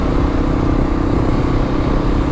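Kawasaki KLR650 motorcycle engine while riding, a loud steady drone with a constant throbbing hum and wind rush, close and alone with no talk.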